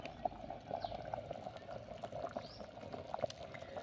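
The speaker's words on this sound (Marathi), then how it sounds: "तर आपल्या भाजीला चांगली खदखदून अशी उकळी आलेली आहे" A pot of horse gram vegetable curry boils vigorously, with faint, scattered bubbling plops and soft gurgles over a low background, quiet and close.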